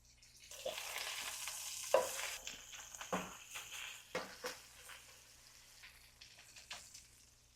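Hand-formed beef patties for Salisbury steak fry in a pan with a soft, steady sizzle. Occasional clinks and scrapes rise over it, and the whole scene is fairly quiet and close.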